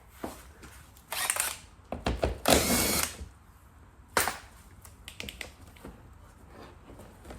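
A power tool whirs in short bursts, undoing a bolt on a Mini, with a few sharp clicks and knocks between the loud spurts, close up in a quiet workshop.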